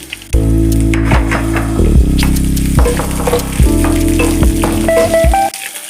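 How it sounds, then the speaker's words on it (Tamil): Onions with green chillies, ginger and garlic fry loudly in a pan, a dense steady sizzle with a few short breaks where the pan is stirred, ending abruptly. "வெங்காயம் நல்லா பொன்னிறமாக வதங்கணும்"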